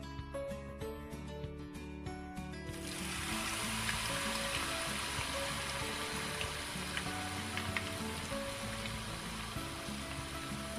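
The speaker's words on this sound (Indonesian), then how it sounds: "Kentang akan saya goreng sampai garing." Potato pieces frying in cooking oil: a steady, close sizzle begins after a short musical opening and continues evenly, with scattered small pops and crackles.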